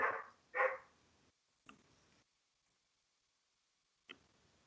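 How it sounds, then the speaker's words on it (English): A dog barks twice in quick succession, fairly close, followed by a few faint clicks and near silence. "barking dog"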